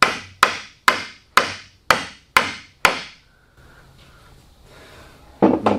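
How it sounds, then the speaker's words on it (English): A mallet strikes a live oak bench joint seven times in a steady, evenly spaced rhythm of sharp, loud knocks, followed by a short quiet pause and one more hit at the end. "Get a mallet."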